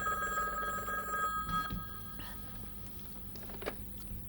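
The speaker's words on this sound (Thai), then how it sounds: "พ่อคะโทรศัพท์" An indoor telephone bell rings steadily for over a second with bright repeated tones, then falls quiet, leaving soft room noise and faint clicks.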